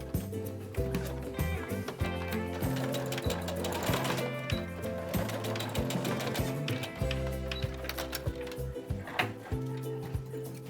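A sewing machine stitches the binding together at both corners of a corduroy camera bag, running in steady bursts of rapid mechanical clatter with brief pauses between seams.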